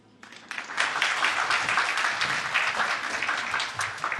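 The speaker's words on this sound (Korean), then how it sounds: "금년 한 해를 우리 여기까지 인도해 주신 주님께 감사와 영광의 박수를 올려드립니다." A church congregation bursts into sustained applause at a Sunday worship service, loud and continuous after a quiet start, filling the room for several seconds without talk.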